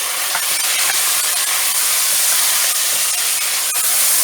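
Goat or mutton meat for achar gosht hits hot oil in a pan over garlic, giving a steady, loud broadband sizzle and hiss that stays level from start to finish, with a few brief crackles.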